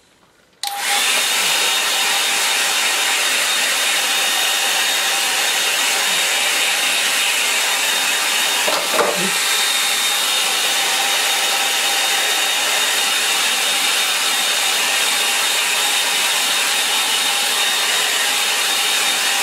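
A hair dryer runs steadily over a freshly painted watercolour, taking the shine off the wet surface; a loud continuous blowing whir starts abruptly and holds nearly unchanged, with a brief shift partway through.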